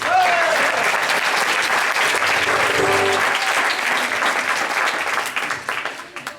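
Audience applause for two musicians at an improv theatre match, a dense steady clatter of many hands that fades out near the end.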